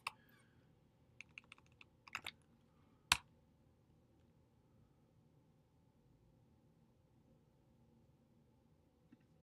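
Typing on a computer keyboard in a quiet room, a few sparse clusters of soft key clicks and one sharper tap, then near silence.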